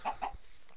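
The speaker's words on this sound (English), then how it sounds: "Hello, chicken." Minecraft chicken giving two quick clucks in a row, short and close, fading into quiet.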